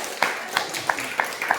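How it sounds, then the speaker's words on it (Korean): A meditation talk audience claps hands in a few separate bursts, roughly five sharp claps spaced about a third of a second apart, moderately close and clear. "고사님들이 박수 한번 쳐주세요"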